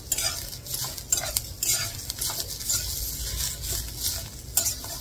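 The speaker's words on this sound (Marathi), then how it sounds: "खोबरं पूर्ण लाल होईपर्यंत आपण भाजून घेऊया" Grated coconut roasts in an iron kadhai, giving a continuous dry sizzle with close, repeated scraping and clinking of a spatula against the metal pan.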